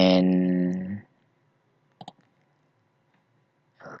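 A single sharp computer mouse right-click sounds at about two seconds, followed by another short click near the end. Both come after a brief stretch of speech and are set against near silence.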